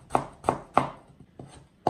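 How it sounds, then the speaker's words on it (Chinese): Ginger is finely chopped with a knife on a board, giving five sharp, close chops in a slightly uneven rhythm, one noticeably softer than the rest, with no voices. "姜一定要给它切得越碎越好"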